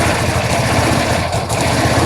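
A motorcycle engine idles in a steady, loud, close drone with constant low rumbling throughout; the start itself is not distinct.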